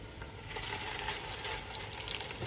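Seekh kebabs fry in a pan on the stove with a steady, close sizzle and fine crackling that holds an even level throughout, with no voices.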